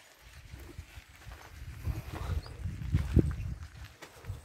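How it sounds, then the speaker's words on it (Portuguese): Two horses walking at a relaxed pace, their hooves clip-clopping as they pull a cart on rubber-tyred wheels, a steady uneven clatter that grows a little louder partway through, heard alone with no talk. "Dois cavalos."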